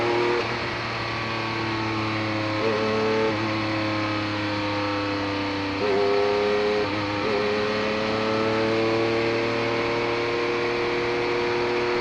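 Race cars including a Porsche 962 and a Chevrolet Beretta accelerating at a green-flag restart, engines droning steadily with rising whines as cars shift and climb through gears, sustained and moderately near.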